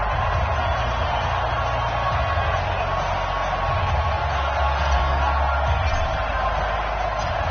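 Steady stadium crowd roar in an EA Sports NFL video game before a New York Giants versus Pittsburgh Steelers matchup, a constant, even wash of cheering noise without distinct peaks.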